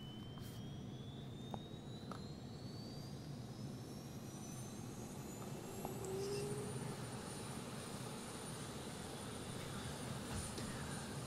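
A Dassault Rafale jet's APU spins up in Microsoft Flight Simulator, a steady faint turbine whine and rising hum with a climbing high tone, no voices.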